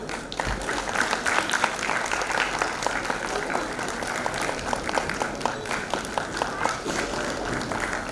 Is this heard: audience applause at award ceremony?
yes